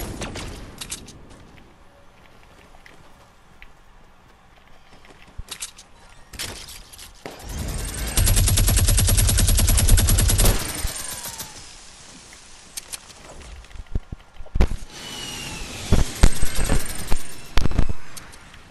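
Fortnite minigun fire in a 50 vs 50 battle: a loud sustained burst of rapid gunfire lasting a few seconds, followed by scattered shots, clatter and impacts amid quieter game background.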